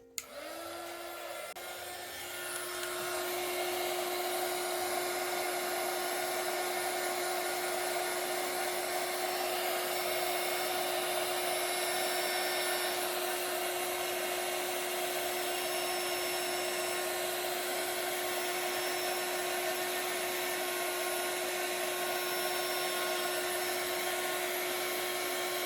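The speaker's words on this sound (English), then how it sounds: "I'm going to go ahead and turn my heating tool on." A heat embossing tool blows steadily for melting embossing powder on a handmade card, switching on with a brief rise and then holding a loud, continuous whirring hum alone.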